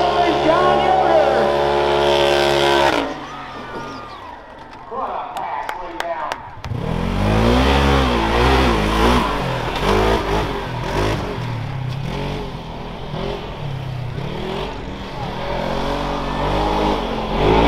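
At a county fair rough truck event, a truck engine revs and roars hard over rough ground, surging and bouncing in pitch over several seconds, while an announcer talks over the loudspeaker.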